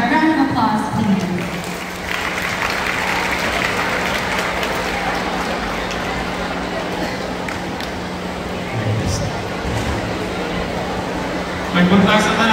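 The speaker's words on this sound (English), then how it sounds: "a round of applause, please" An audience at a school PTA Day event applauds in a sustained, dense round of clapping that fills the hall, rising at the start and easing off, with a voice over the clapping at the start and near the end.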